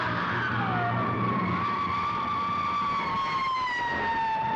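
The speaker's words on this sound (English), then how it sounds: "creative sound editing there as her screams fade into approaching police sirens" Police sirens wail and gradually draw closer in a scene from the 1933 film King Kong, a steady rising-and-falling tone with a fainter second siren layered over a low traffic rumble.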